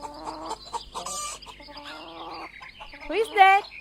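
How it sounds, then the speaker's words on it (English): A hen heading to its coop clucks in a run of close, loud, pulsing calls, ending in a louder, rising squawk. "Yes, the hen."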